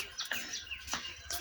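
A pigeon kept in a box gives a few quick, high chirps and calls in close succession over a brief moment, fairly faint and without talk.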